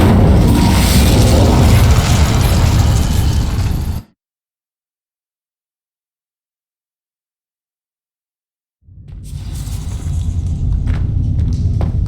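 In Hogwarts Legacy, an Incendio fire spell sets dry vines alight with a loud, roaring rumble that cuts off abruptly into several seconds of total silence, then returns just as heavy.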